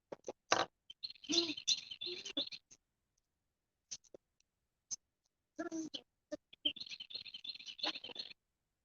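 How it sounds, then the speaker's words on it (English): Bursts of shrill, raspy bird calls come in clusters separated by quiet gaps, with sharp clicks scattered between them. "These birds are so loud."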